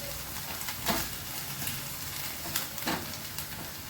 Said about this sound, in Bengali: এবার মশলাটাকে ভালো করে কষাতে হবে।